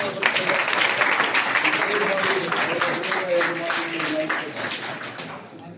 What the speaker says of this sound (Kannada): ನೀವು ಜೋರಾದ ಚಪ್ಪಾಳೆ